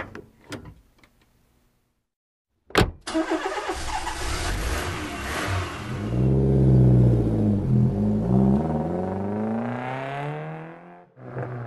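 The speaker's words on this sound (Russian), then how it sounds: "А вот и наше такси." A taxi car in an animated Russian-language learning cartoon: a door thud and engine start, then a steady running engine rumbling loudly for several seconds with rising and falling tone, alone without talk.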